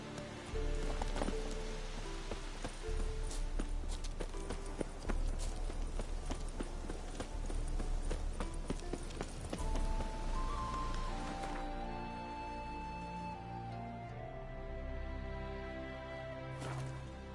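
Hooves of Roach, Geralt's horse in The Witcher 3: Wild Hunt, clip-clop at a steady rhythm, closely mixed with game music and ambient sound throughout, with no talking over it.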